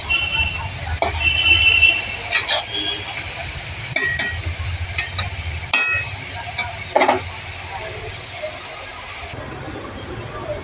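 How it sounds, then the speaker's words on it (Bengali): Eggplant frying in a pan with salt and turmeric, a steady sizzle with scattered utensil clinks and scrapes, close and fairly loud, easing off toward the end. "বেগুনটা একটু ভেজে নুন হলুদ দিয়ে দিয়েছি, চাপা দিয়ে দেবো।"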